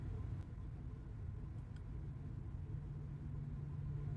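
Low, steady engine rumble inside a parked car with the motor running, a constant muffled drone with no talking.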